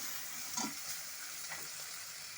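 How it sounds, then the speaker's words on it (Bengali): Banana stem, potatoes and rice being stirred together in a frying pan, giving a faint, steady sizzle with a couple of soft scraping strokes from the spatula, heard close with no voices. "এখন সমস্ত কিছুর সাথে আলুর সাথে চালটার সাথে ভালো মতো করে মিশিয়ে নেব।"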